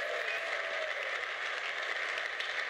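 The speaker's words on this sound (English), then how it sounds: "Ladies and gents, another round of applause." Audience at a snooker match giving a sustained round of applause, a dense, even clatter of many hands lasting a few seconds, with no speech over it.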